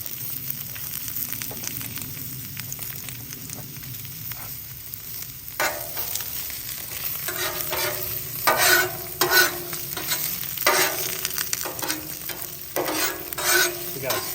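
Asparagus, mushrooms and small red onions sizzling on a Blackstone griddle, a steady close frying hiss that swells with louder crackling bursts as the vegetables are moved about on the hot steel, with no talk.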